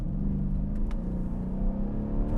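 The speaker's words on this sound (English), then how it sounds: "so you can get a little bit of an idea of the acceleration of this vehicle" A 2012 Mercedes-Benz CLS 63 AMG accelerating hard, its engine a loud, steady, deep rumble heard from inside the car with no pauses.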